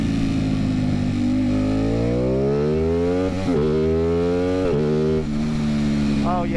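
An Aprilia Tuono fitted with 16/45 lightweight sprockets and a lightweight brake rotor accelerates hard, its loud, close engine note climbing steeply and dropping briefly at two quick upshifts before pulling up again.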